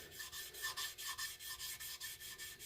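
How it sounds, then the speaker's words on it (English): A knife edge is buffed with jeweler's rouge in quick, regular back-and-forth strokes, about a dozen soft rasping rubs, faint and close with no voices. "we're going to touch it up with some jeweler's rouge"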